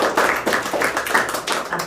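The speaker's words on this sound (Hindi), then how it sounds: "इसलिए तालियां बजाओ।" A class audience at a free basic computer class in Nagpur claps for a guest, a few seconds of steady, fairly close hand clapping from a small group with no talk.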